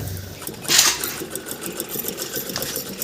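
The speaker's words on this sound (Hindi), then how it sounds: "ये देखें, ये सिलाई कर रही है बैठी।" A sewing machine runs steadily with a rapid, even whirring chatter of stitching, preceded by a brief bright metallic clink, close and fairly loud with no talk.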